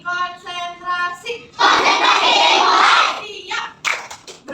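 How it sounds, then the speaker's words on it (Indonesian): Children clap their hands together in a counting game about morning, noon and night. A voice comes first, then a dense burst of clapping for over a second, followed by a few scattered claps. "Coba lagi tepuk, ayo"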